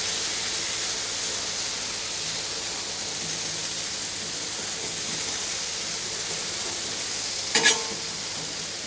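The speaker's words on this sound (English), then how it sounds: "Now we're ready to add our potatoes." Potatoes and chorizo fry on a Blackstone griddle as an even, hissing sizzle that holds steady throughout, broken near the end by one short scrape, with no talking.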